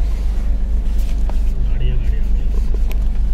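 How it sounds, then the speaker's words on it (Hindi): A vehicle rolls in along a jungle road in Corbett National Park at night, its steady low engine rumble close and continuous beneath people talking. "गाड़ी आ गई"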